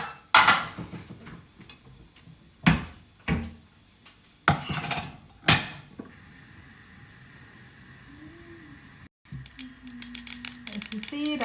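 Mustard seeds and a little cumin frying in hot oil give a steady hiss broken by a few loud, sharp pops, then the sizzle settles to a quieter crackle.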